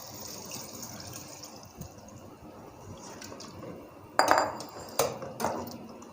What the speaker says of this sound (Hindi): चिकन स्टॉक डाल दी है मैंने इसमें।